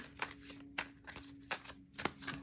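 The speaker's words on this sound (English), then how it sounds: "let's get a good shuffle in here" Oracle cards from a Gaia Oracle deck are shuffled in several quick, soft riffling bursts at a steady rhythm, close and quiet.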